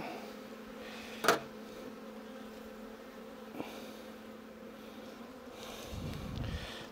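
Honeybees around an opened hive make a faint, steady buzz, with one sharp knock near the start, a smaller tap later, and a low rustling handling sound toward the end.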